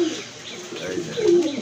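A healthy pigeon held in the hand at a pigeon sale gives a low, rolling coo that swells near the end, close and clear over faint background noise.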